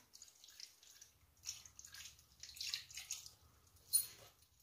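Soy sauce poured over pork neck bones for adobo, soft intermittent splashes and drips in a quiet room, rising in bursts with a sharper splat near the end.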